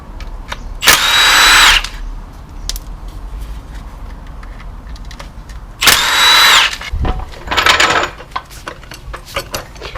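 A power tool gun spins out the sump bolts on a Mini Cooper R50/R53, three loud, close bursts of whirring and rattling lasting about a second each, with clinks of bolts and tools in between and no talk.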